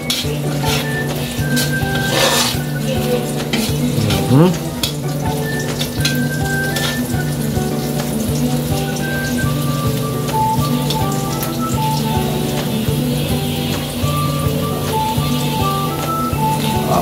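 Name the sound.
meat frying and sizzling in a pan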